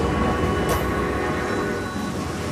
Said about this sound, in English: I've never been on a Pakistani train before.